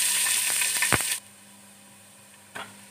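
Sizzling hiss from hot oil in a pan as onion is added while cooking pudina chitranna, dense and bright for about a second, then dropping to a low hum before a short sizzle burst returns.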